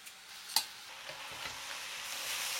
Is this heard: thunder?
no